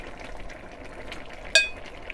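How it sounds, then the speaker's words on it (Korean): Soft stirring of enoki mushrooms and chili into a simmering pot of sundubu jjigae with yellow pollack, a faint gentle swish with a single sharp utensil clink against the pot. "여기다 이제 마지막으로 팽이버섯하고 고추를 넣어서 섞어줍니다"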